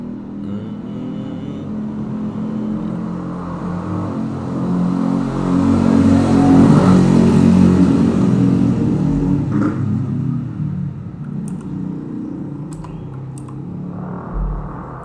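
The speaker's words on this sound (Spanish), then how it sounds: "Hace ruido" A motorcycle engine rumbles steadily, swelling louder midway as if passing close, then fading, with a few faint clicks near the end.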